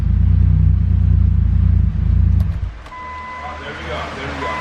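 A car engine rumbles loud and low at idle just after its first startup, then drops away sharply near the three-second mark into a quieter hum with a faint whine.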